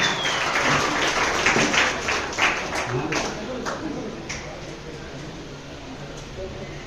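An audience at a book festival debate gives a warm round of applause, the dense clapping strongest at first and then gradually thinning and fading away.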